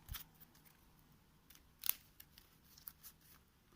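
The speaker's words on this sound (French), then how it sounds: "je dois mélanger mon deck" Marvel Champions game cards being shuffled produce several faint, brief riffling and snapping sounds at close range, one slightly louder flick near the middle, against a quiet room.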